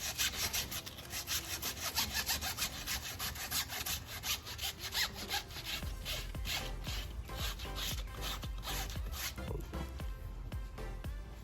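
Sandpaper rubs steadily back and forth across the sidewall of a 2016 Nissan 370Z tire, a continuous rhythmic rasping scrub that is close and loud, with no voices over it.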